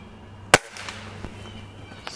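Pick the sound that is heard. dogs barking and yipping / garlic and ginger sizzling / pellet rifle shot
pellet rifle shot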